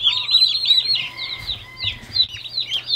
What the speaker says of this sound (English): Mama brought the turkeys.